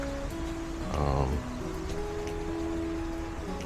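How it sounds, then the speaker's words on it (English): Steady rain hisses in the background on a rainy day in Hawaii, with a person briefly murmuring over it. "It's a rainy day today"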